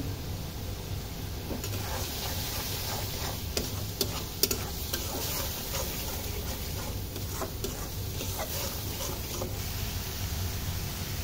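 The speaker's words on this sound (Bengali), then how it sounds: "এই যে পেঁয়াজগুলোকে আমি ভালোভাবে কষিয়ে নিচ্ছি।" Onions fry in a pan with salt, turmeric and chili powder, giving a soft steady sizzle with light scraping and tapping from stirring, fairly quiet and without talk.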